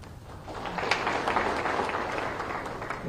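An audience claps at a Gandhinagar appointment-letter ceremony for newly hired state tax inspectors, a fairly quiet, steady roll of applause from a crowd that swells slightly and holds, heard from a distance.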